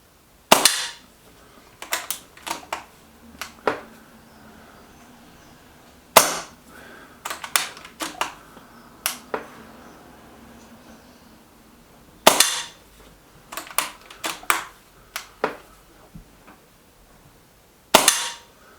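A Walther Rotex RM8 .22 air rifle fires RWS pellets in five sharp, close shots, spaced several seconds apart. Each report is followed by softer clicks and rattles from handling the rifle between shots.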